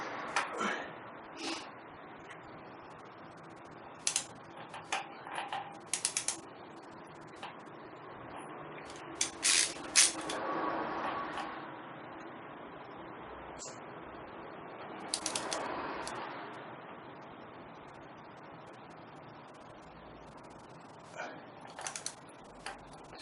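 A ratchet tightens an oil filter conversion fitting on a 1968 MGC, giving quiet clicking pawl ticks in short bursts with metallic clinks and pauses between them.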